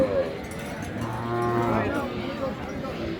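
A bull lows at a busy cattle market at Aftabganj haat, giving one long, deep moo in the middle of the clip over a steady background of crowd murmur.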